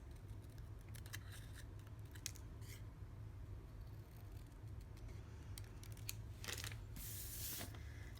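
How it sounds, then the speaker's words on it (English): Small metal snips cut a flagged end into a piece of cardstock for a no-glue treat box, giving a few quiet crisp snips and paper rustles close by over a low hum. "I'm just going to take my snips and I'm going to snip a little flagged end on this"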